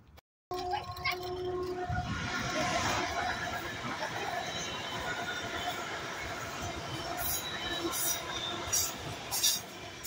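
A train rumbles past at a distance on the coast at Largs, Scotland, a continuous low roll with faint rail squeals and clicks, outdoors with some background noise.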